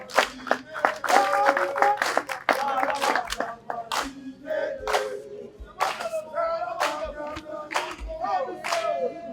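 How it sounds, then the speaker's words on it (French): An audience applauds young football talents with dense, energetic clapping from many hands at fairly close range, swelling and thinning in waves across the whole stretch, with a few shouts and cheers mixed in. "Nous applaudissons pour nos jeunes talents."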